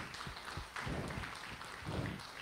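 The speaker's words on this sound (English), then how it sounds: "Can y'all give the Lord a hand clap of praise this morning?" Church congregation clapping hands in praise during a morning service, a steady dense patter of many hands filling the room and swelling louder partway through.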